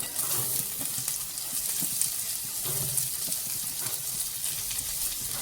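Finely chopped carrot and onion hitting hot oil in a pan for crispy corn, giving a steady, close, moderately loud sizzle and frying hiss with faint clinks of stirring throughout.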